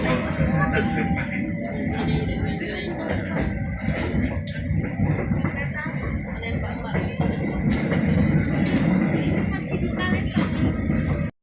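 A freight train of nearly 50 cars rumbles steadily past on the rails at a level crossing in Indonesia, a continuous loud clatter and roar that fills the whole stretch before cutting off abruptly.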